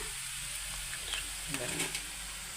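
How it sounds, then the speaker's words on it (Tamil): Onions sautéing in a pan for a kulambu, a soft, steady low sizzle with a few faint stirring clicks and scrapes, quiet and close, no talk over it. "வெங்காயம் போட்டு நல்லா வதங்கணுன்னா"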